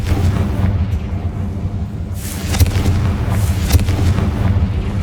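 The Confringo blasting spell is cast in the Hogwarts Legacy video game, and a dense, loud rumbling blast fills the whole stretch. A few sharper cracks rise out of the sustained low roar.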